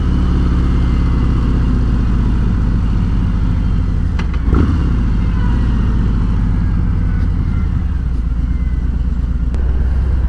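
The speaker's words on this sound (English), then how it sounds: "Engine braking, third gear." A 2019 Road King motorcycle with a Rinehart Racing DBX45 slip-on exhaust drones continuously at steady revs, loud and close, engine braking in third gear, with a brief clatter partway through.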